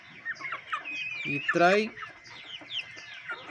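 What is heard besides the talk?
chickens clucking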